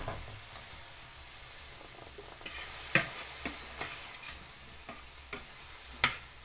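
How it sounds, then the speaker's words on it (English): Sizzling in a pan deglazed with cooking sherry while making bean tacos, with a steady soft hiss broken by sharp utensil clicks and taps scraping at irregular intervals. "Deglaze it with a little bit of sherry"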